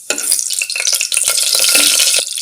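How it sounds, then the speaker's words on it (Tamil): Whole spices, including cinnamon, star anise and cloves, fry in hot oil in a small pressure cooker, giving a steady, loud close-up sizzle and crackle with light scraping, and no voices. "போட்ட மசாலா பொருள்கள் எல்லாம் பொரியட்டும்"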